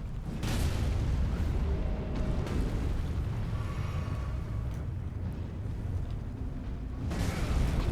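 Explosions from a boss's bomb attack in Elden Ring: Shadow of the Erdtree, heard as a loud, continuous rumbling blast that swells at the start and again near the end.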